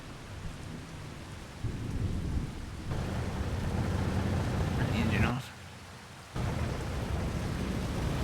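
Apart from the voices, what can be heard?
dust devil storm with thunder in video game Farming Simulator 25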